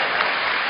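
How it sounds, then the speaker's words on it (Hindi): Audience applause at a comic Hindi poetry gathering, a dense steady patter of many hands clapping throughout the short moment. "इधर से तालियां कम बज रही हैं, इधर का मामला ठीक है।"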